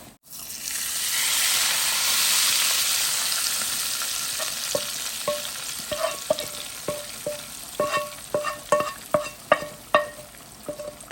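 Garlic and pumpkin sizzle loudly in a hot pan, the hiss easing as repeated metallic scraping and clinking of stirring take over, growing busier toward the end.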